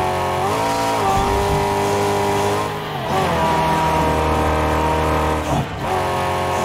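Several cars race in Mad Max, their engines roaring loud and steady with shifting revs and brief dips as the vehicles jostle, no voices over the din.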